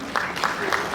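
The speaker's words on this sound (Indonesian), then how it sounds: "Luar biasa tepuk tangan" A brief burst of audience clapping at an HKBP church finance meeting, with a few distinct claps falling in a loose rhythm over about a second.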